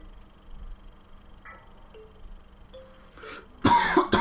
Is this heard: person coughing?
yes